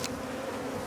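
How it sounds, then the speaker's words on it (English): A swarm of honeybees clustered on a tree branch produces a brief, continuous droning buzz, close and steady, with no speech. "We got some bees that are still congregating on the branch."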